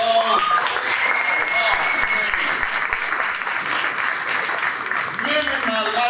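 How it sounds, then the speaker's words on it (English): Loud, sustained applause from the audience at a school board meeting, clapping for the choir throughout, with some voices over the clapping. "let's give that choir another round of applause."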